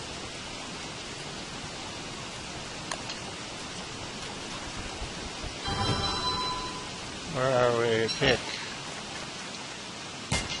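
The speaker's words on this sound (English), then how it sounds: "That fire, any kind of fire will go out fast in the rain." Rain in the video game Don't Starve: Reign of Giants falls as a continuous hiss of noise under a man's brief speech, joined midway by short game sound effects and tonal chimes.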